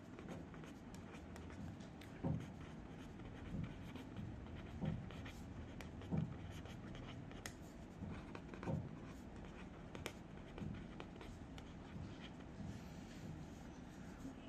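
Pen scratching steadily across a writing surface while working a Class 9 geometry exercise on similar figures, with soft irregular strokes and a few sharper taps. Quiet and close, with no talking.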